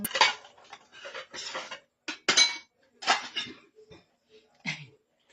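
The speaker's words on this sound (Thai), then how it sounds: "ล้างถ้วย" Dishwashing of cups and plates, with bursts of clinking crockery and cutlery rattling close by, in several short irregular clusters with brief quiet gaps between them.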